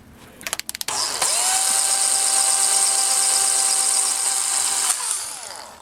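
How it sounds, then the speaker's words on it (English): A small power drill boring a hole for a wood screw in a model train coupler box, with a few quick clicks and then a steady high whine held for several seconds before spinning down. "And make a hole for a wood screw."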